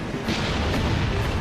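Heavy ship cannons firing in Assassin's Creed Rogue during a naval battle, with deep booming blasts and rumbling under a dense, loud battle din, several shots merging together.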